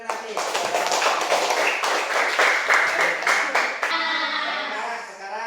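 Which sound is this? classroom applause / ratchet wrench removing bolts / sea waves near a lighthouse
classroom applause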